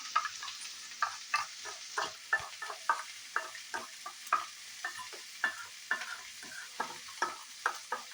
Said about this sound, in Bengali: তো এদিকে আমার এটা ভাজা ভাজা হচ্ছে, দেখতেই পাচ্ছেন।